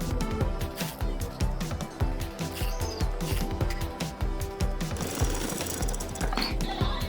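Sewing machine stitching a student gown, a fast steady rhythmic hammering of the needle running continuously and close, with slight variations in pace and no talking.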